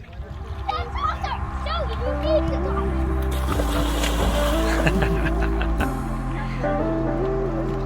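Jet boat roaring along the river in Hells Canyon, a loud steady engine drone with rising and falling pitch, water splashing around it and people talking and exclaiming over the noise.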